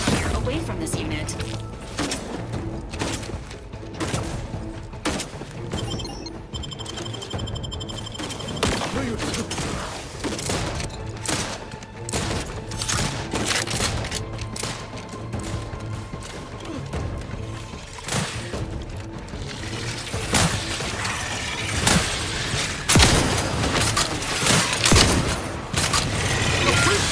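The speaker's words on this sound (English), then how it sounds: "Please direct your fire away from this unit." Sustained bursts of automatic gunfire in the sci-fi shooter Outer Worlds 2, with cracks, crashes and mechanical clatter layered over steady combat noise, joined by a synthetic robotic voice speaking.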